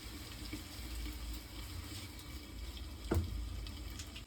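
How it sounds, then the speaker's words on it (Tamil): Dissolved tamarind water being poured through a filter into a vessel in a home kitchen gives a steady, close trickling flow with one brief louder splash partway through, with no talk. "புளி நல்லா கரைச்சியாச்சு இதை ஒரு தனி ஃபில்ட்ரு போட்டு ஒரு பாத்திரத்தில் நம்ம மாற்றி வச்சுக்கணும்"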